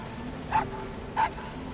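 D-Dog, the puppy in Metal Gear Solid V, gives two short, fairly quiet high yips about two-thirds of a second apart over a low background hum.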